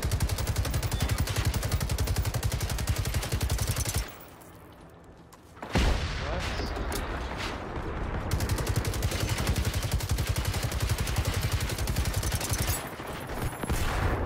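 Sustained, dense automatic fire from a minigun in the video game Generation Zero, a loud continuous rattling burst that drops out briefly, resumes with scattered impacts, then continues roaring to the end.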